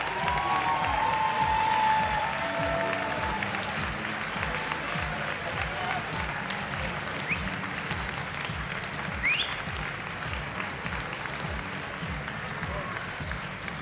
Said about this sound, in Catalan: Un fort aplaudiment per aquests guanyadors.